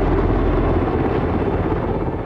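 An HH-60 Pave Hawk military helicopter flies close by, its rotor and engine giving a loud, steady, dense thrumming roar throughout.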